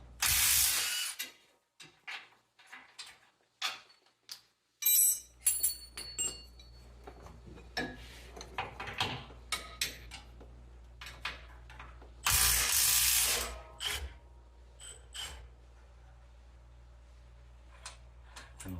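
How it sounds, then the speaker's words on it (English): A hand ratchet clicks as it turns a 22 mm socket on lift-kit bolts of a 2019 Toyota Tacoma, in bursts of rapid pawl ticks. Metallic clinks of tools sit between the bursts, close up, with no talking. "You need a 22 millimeter or 7/8 socket on there, and a 19 mil wrench for the nut."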